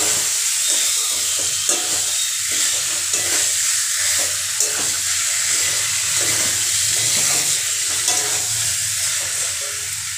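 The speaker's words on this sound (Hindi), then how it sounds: "जो हमने फ्राई करके रखा था चिकन आलू, हम सब डाल देंगे। इसे हम चला देते हैं।" Fried chicken and potatoes stirred in a hot pan for aloo chicken, a steady loud sizzle and hiss with repeated scraping stirs throughout, no voices.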